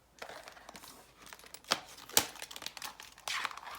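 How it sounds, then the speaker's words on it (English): Paper cash envelopes being flipped through by hand give close, dry crinkling and rustling bursts, with a few sharper snaps and no voices. "I'm going to go through my cash envelopes and flip through each category to determine what I'm going to need for the week"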